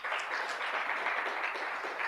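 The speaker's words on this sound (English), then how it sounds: "a big round of applause" Applause from the audience at a maternal health project launch at Mbarara University of Science and Technology, honouring skilled birth attendants: a steady, even wash of clapping that holds for the whole stretch without a break.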